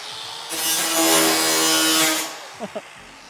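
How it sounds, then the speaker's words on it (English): An angle grinder runs against wood for under two seconds in a loud, steady whine-and-rasp burst, followed by a couple of short knocks. "Okay, we got our angle grinder."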